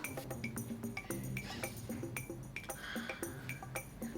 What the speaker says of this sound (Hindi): अरे क्या बर्तन साफ कर रही हो